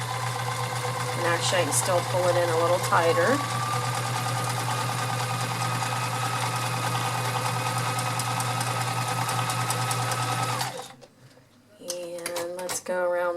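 A vintage Kenmore 1560 convertible free-arm sewing machine stitches a diamond pattern with a steady, close whirring hum for about ten seconds before stopping briefly and restarting, while a voice talks over it.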